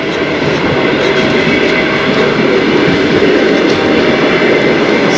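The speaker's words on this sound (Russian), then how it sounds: "Какой-то поезд едет." A train rumbles past continuously along a railway in Lazarevskoye, Sochi, a loud steady roar of wheels and rushing noise filling the whole clip.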